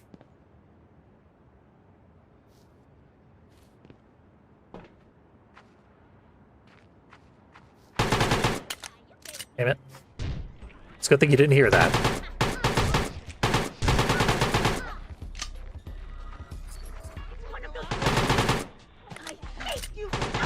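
AK rifle bursts in a video game, loud rapid automatic fire in several stretches after a quiet opening with faint footsteps, with brief speech between volleys.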